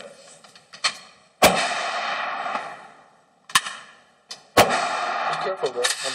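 Sharp, loud M48 rifle shots fired outdoors, three distinct reports spaced a couple of seconds apart, each with a ringing decay, while people talk between them.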